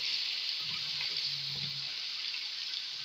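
Garlic and ginger fry in hot oil for a white beef korma, giving a steady, even sizzling hiss with a soft low rumble underneath.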